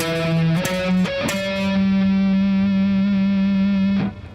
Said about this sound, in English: to have a minor third, it would sound like this.